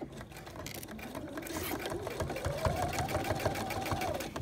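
A sewing machine runs steadily while stitching flannel neck binding on a sleep sack, its rapid mechanical whir continuous and close throughout.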